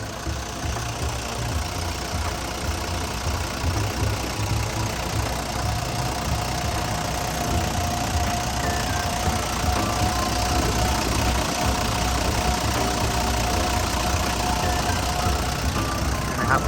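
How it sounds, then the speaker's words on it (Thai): The six-cylinder diesel engine of a Hitachi LX110-7 wheel loader runs at a steady idle nearby, a dense continuous rumble with a faint mechanical whine, no pauses throughout. "ลูกค้าฟังเสียงนะครับเครื่องยนต์เขาก็ทำงานได้ ค่อนข้างแน่นมากๆนะครับ"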